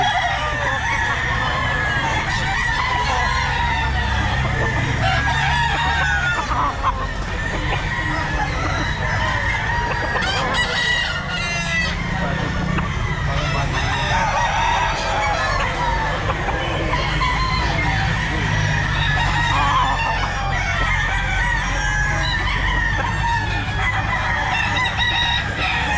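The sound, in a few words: bullstag roosters crowing at a pet market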